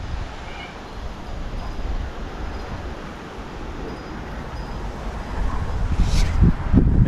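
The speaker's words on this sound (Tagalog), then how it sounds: "Mapapansin nyo, lakas ng hangin ngayon, no?" Strong wind gusting outdoors in an Australian residential street in late afternoon, a steady broadband roar buffeting the microphone, building louder near the end, with faint bird calls.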